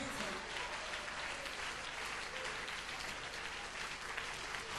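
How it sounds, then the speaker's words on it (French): A church congregation breaks into dense, continuous applause of praise during a bilingual worship service, a wash of many hands that stays even and fills the room, heard somewhat distant and soft. "Give him a hand of praise"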